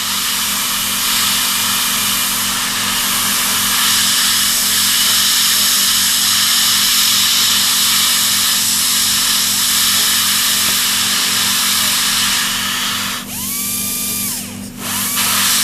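A dental drill fitted with a fine-grit cylindrical diamond bur whines at a steady high pitch while finishing the walls of a Class II cavity preparation for amalgam, running continuously and close, with brief dips in speed near the end.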